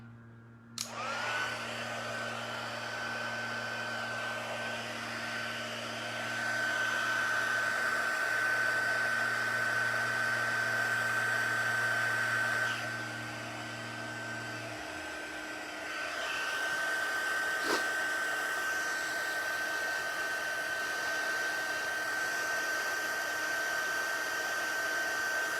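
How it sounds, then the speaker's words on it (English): Heat gun blowing continuously for heat embossing, a loud steady whooshing roar with a high whine that shifts pitch partway through and runs unbroken for the whole stretch. "Okay, now for some more heat embossing, of course. So hang on while I blast your ears again."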